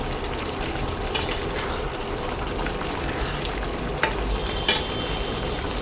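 Jackfruit curry with garam masala bubbles and sizzles in a pan, a steady close hiss with a few sharp ticks and clinks.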